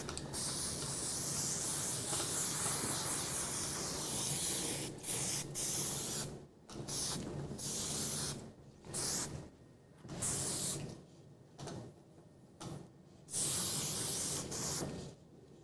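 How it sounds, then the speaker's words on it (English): Spray wax is misted onto hair in a salon in a series of hissing bursts, long continuous sprays at first, then shorter separated puffs, close and fairly loud. "A bunch of spray wax."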